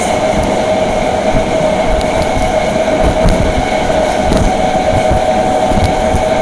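A MEMU passenger train runs from Dindigul toward Coimbatore, heard from inside as a steady, loud rumble with a sustained hum and faint rail clatter throughout.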